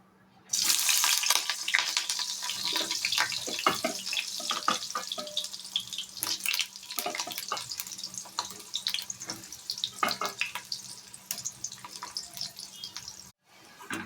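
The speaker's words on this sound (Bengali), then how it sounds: "বেগুনগুলো আগে ভেজে তুলে নেব।" Eggplant pieces sizzle in hot mustard oil in a wok, with a dense, steady crackle and frequent sharp pops that begin suddenly and stop abruptly near the end.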